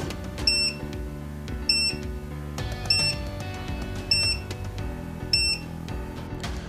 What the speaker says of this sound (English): You may also hear beeps from the MUSE indicating that a connection has been received.